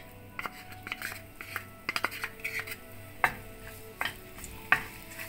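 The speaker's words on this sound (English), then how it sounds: "Then I'm gonna add garlic." Garlic going into a pan for Thai coconut fish soup, with light sizzling and repeated scraping and clinking of a utensil against the pan in an irregular stirring rhythm, close by.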